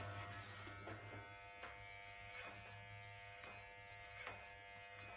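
Electric hair clippers fitted with a number 1 guard buzz steadily and faintly, with short rhythmic swells as they pass through hair, no voices.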